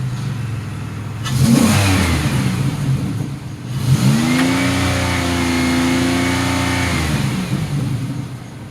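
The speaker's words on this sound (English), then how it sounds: "Yeah, it's shooting little fireballs out of its exhaust leak." A 2007 Pontiac Grand Prix engine runs close by, with sharp pops and crackles from an exhaust leak breaking through the rumble, then settles into a steady tone as the revs rise and hold.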